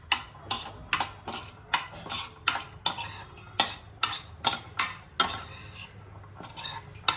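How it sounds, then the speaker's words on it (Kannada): A spoon stirs and mixes garam masala and spices in a metal pan, giving rapid, rhythmic scraping clinks and knocks, loud and close, repeating steadily with no voice. "ಸ್ವಲ್ಪ ಗರಂ ಮಸಾಲ ಸ್ವಲ್ಪ ಇದೆಲ್ಲ ಹಾಕಿ ಚೆನ್ನಾಗಿ ಮಿಕ್ಸ್ ಮಾಡಬೇಕು"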